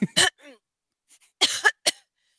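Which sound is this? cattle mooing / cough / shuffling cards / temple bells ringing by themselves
cough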